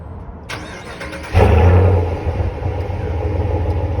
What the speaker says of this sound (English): This Hemi sounds really good when it starts up.